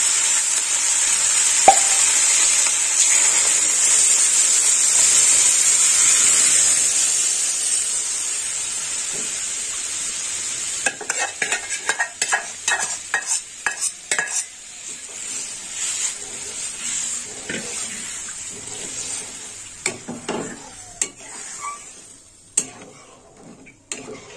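Potatoes tipped into fried spices in a pan, a steady high sizzling hiss at first, then a run of sharp scraping and clinking stirs with the frying hiss fading underneath, close by.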